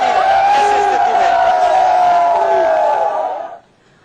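A large crowd at a Holi festival in Mathura shouts and cheers together, a loud sustained roar of voices with rising and falling chants that drops away abruptly near the end.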